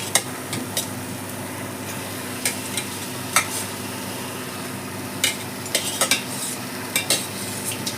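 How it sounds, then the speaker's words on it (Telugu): Fish head pieces stirred into masala in a pan for a fish head curry, with scattered spoon-on-pan scrapes and clinks over a faint sizzle. "ఇందులోకి ఇప్పుడు మనం తలకాయ ముక్కలు వేసుకుందాం"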